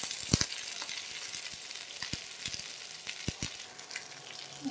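Okra fries in hot oil with nigella seeds, a steady sizzling hiss punctuated by scattered sharp pops and crackles at irregular intervals, close and fairly quiet.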